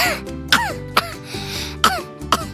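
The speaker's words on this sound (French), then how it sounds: "Voici une toux sèche" A child gives a series of about five sharp, dry, hacking coughs, spaced roughly half a second apart, close and clear with no speech.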